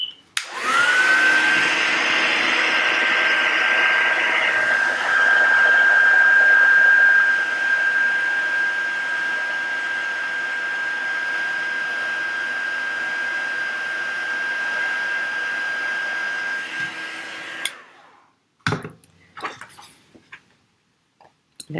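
A heat tool blowing steadily on a craft project to heat set it, a loud, constant whirring roar with a high whine. It runs for about seventeen seconds, then cuts off and a few soft clicks and knocks follow.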